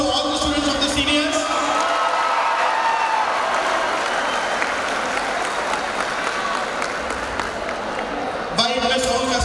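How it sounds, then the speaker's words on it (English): A large audience at a college freshers' day event applauds loudly and steadily, with some cheering mixed in, sustained for several seconds before fading. "A big round of applause to all the students of the seniors."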